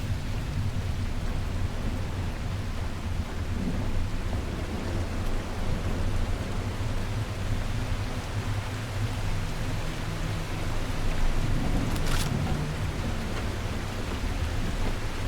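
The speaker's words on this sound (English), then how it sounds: "I can hear something though. Oh, that's rain." Heavy rain in the video game The Last Caretaker, a loud, steady wash of rainfall with no breaks and a low rumble beneath it.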